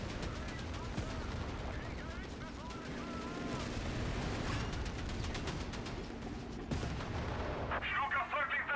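Continuous gunfire and artillery rumble fill a Company of Heroes 3 battle in the Africa campaign, dense and steady with bursts of shots and booms, while game voices call out over the din.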